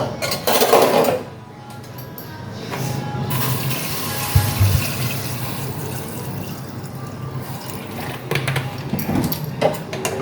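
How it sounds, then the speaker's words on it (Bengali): Water pours steadily into a pressure cooker while cooking duck meat, a close, continuous splashing fill with a brief metallic clunk partway through and no talk. "এবার আমি আর কি প্রেসার কুকারে জল দিয়ে দিব।"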